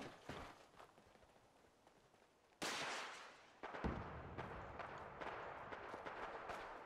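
Rockets firing and booming in Fallout 4, heard at a distance: a faint early thump, then a sudden loud blast followed by another heavy impact and a sustained rumbling roar that lingers to the end.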